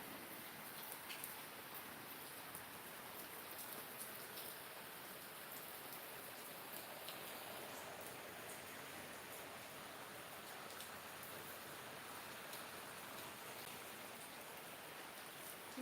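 Heavy rain falls steadily and evenly, a dense close wash of drops with no voices, holding constant throughout.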